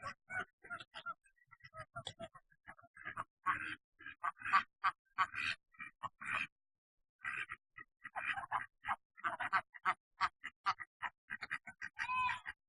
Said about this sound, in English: Watch the ducks and the geese.